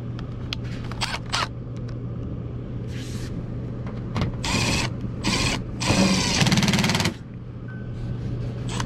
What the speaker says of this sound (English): Looking for my drill.